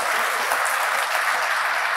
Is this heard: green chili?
no